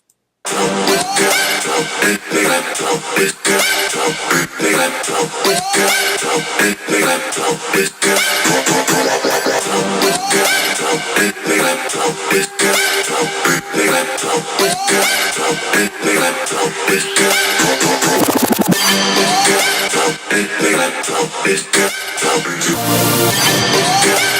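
Soloed moombahton basses and sound design effects in a Reach-style production play as a dense, loud, continuous layer of heavy synth bass and effects for the full stretch, with no voice.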